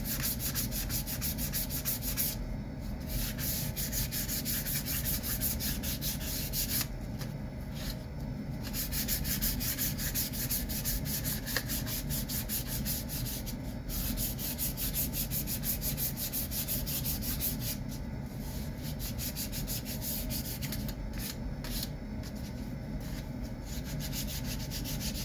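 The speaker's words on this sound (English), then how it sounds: "Got some 220 grit sandpaper. Probably be a little bit coarser. Take the edge off these corners as well." Wood edges and corners being sanded by hand with 220 grit sandpaper while building a lobster pond yacht boat model, a steady continuous rubbing and scratching that runs throughout, close and fairly loud, with no talk.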